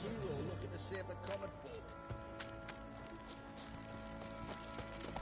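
Horse hooves clip-clopping in the open world of The Witcher 3, a steady trotting patter set against game ambience and music, with a voice talking over it.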